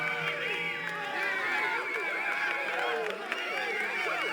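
Cheering from a virtual crowd in the racing game Need for Speed Underground, a busy overlapping mass of voices at an even level throughout, without music behind it.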